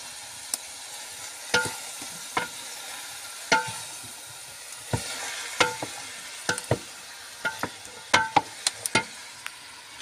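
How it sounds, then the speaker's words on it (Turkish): Green beans are poured into hot oil with onion and tomato paste over a wood fire, giving a steady sizzle broken by sharp, irregular crackles and pops throughout. "Yağ, soğan, bir de salça girdim buna. Öf, müthiş. Fasulyemi döküyorum."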